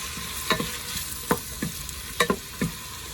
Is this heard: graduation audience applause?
no